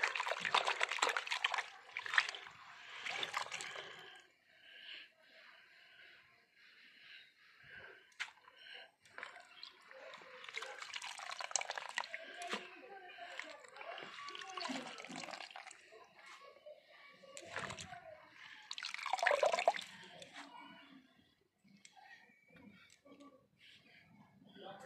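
Soaked leafy greens are lifted out of a basin of water, giving faint trickling, dribbling and splashing in intermittent bursts. Quiet talking can be heard in the room at times.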